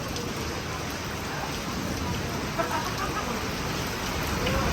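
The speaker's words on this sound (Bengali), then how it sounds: "অতিরিক্ত বৃষ্টি, অতিরিক্ত তুফান সীতাকুণ্ড।" Heavy rain pours during a storm in Sitakunda, a dense, steady roar of drops hitting surfaces, loud and unbroken throughout.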